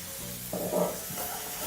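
Onion and tomato mixture sizzles with mutton in a pan for a mutton stew, a steady soft hiss that swells briefly as the food is stirred, with no talking.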